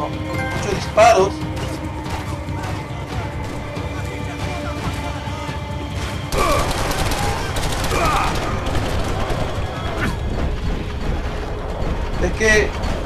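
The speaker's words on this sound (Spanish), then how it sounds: "Oh, muchos disparos." Heavy gunfire in the Max Payne 3 video game, bursts of rapid shots and crashes mixed with game sound and a player talking over it.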